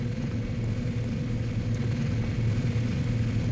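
Moving machines in the video game Gene Troopers give off a low, steady mechanical hum and rumble, faint and continuous with a slight wavering whir, heard alone.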